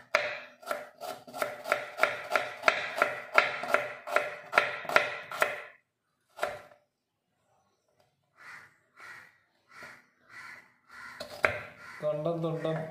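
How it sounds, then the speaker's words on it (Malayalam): A knife chopping onion on a board in a fast, steady run of crisp close taps, then a pause and a few slower scattered cuts, with a short burst of speech near the end. "അപ്പോൾ നമ്മൾ ആദ്യമായിട്ട് സവാള അരിയ."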